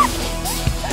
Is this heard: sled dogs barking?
yes